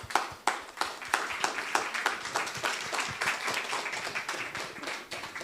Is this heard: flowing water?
no